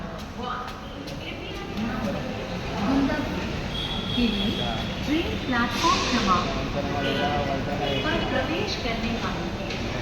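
A metro train rumbles steadily with broad hissing noise as several people talk over it throughout.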